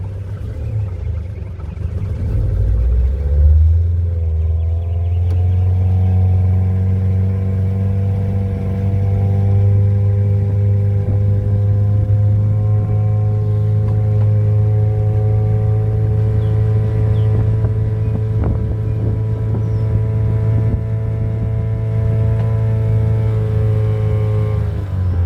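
A boat engine on the Norfolk Broads speeds up, its steady mid-pitched drone rising into a stronger, even hum that holds close and loud for a long stretch with no talking.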